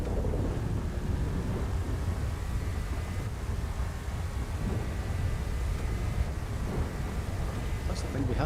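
Steady rumbling thunder and rain noise from a stormy GTA 5 race on a Bathurst-style track, a continuous low roar with engine hum throughout.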